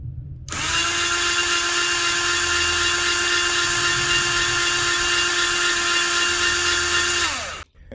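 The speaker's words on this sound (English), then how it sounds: "So I've got this Hitachi screw gun right here with a 13mm socket. And I'm just putting it on low speed." Hitachi screw gun on low speed turning a valve seat cutter on a 13mm socket, working a valve seat on a 2008 Acura MDX: one steady whine spins up, holds about seven seconds, then winds down, close and loud.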